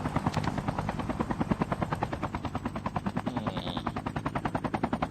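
Helicopter rotor chopping loudly and steadily in a Call of Duty Mobile battle royale match, a fast regular thump throughout with faint gunfire-like bursts mixed in.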